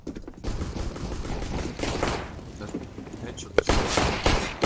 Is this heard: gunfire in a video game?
yes